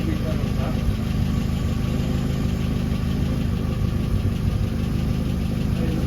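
A Mini car engine idling during a first self-tune, with the ignition timing set far too advanced. It gives a loud, close, steady mechanical chug with an uneven knocking edge, running continuously throughout.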